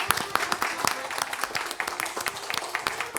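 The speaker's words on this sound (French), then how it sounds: "vous pouvez vous applaudir" A group of children from a small vocal ensemble applauds themselves, with steady scattered clapping throughout at moderate loudness and some voices mixed in.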